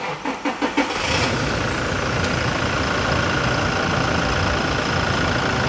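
2017 Toyota Hilux 2.8 GD diesel engine cranking with a few quick starter pulses, then catching and settling into a steady, close, even idle.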